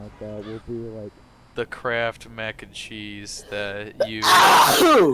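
A loud, sudden sneeze bursts out at the end, following a stretch of casual talk about mac and cheese, with a noisy broadband blast briefly overwhelming the voice.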